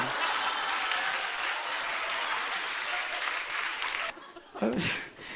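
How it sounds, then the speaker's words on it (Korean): A church congregation applauds its pastor in a dense, sustained wash of clapping that cuts off abruptly near the end, followed by a brief murmur and a voice. "18년 여서 목회했는데 박수를 처음 받아봤습니다"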